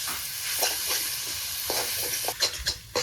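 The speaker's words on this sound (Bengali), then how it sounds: "কাঁচা লঙ্কা কালো দিয়ে ফোড়ন দিচ্ছি ফোড়নটা একদম কড়া করে পুড়ে নিচ্ছি" Green and dried chillies temper in hot oil in a kadai, giving a continuous crackling sizzle broken by stirring scrapes and sharp spattering pops.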